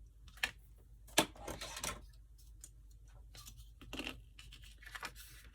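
Scissors snipping off excess fabric, a few quiet crisp cuts and rustles spaced irregularly, close and faint.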